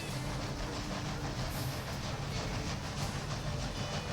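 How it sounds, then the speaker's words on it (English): Train in Railway Empire 2 rolls along the rails with a steady rumble and faint rhythmic clatter, a continuous mid-level drone with light hiss throughout. "just kind of getting on top of the train and riding along"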